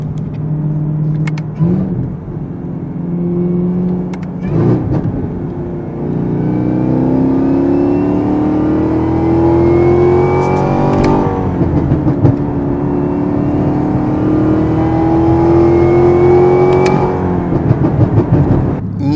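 A car fitted with a Corsa Performance cold air intake revs loudly and close, the engine note climbing and falling in repeated sweeps over a continuous deep rumble, with no voices.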